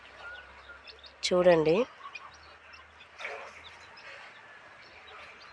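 A farmyard hen gives a loud, brief clucking call with her five newly hatched chicks close by. Faint high peeps follow, and someone speaks nearby.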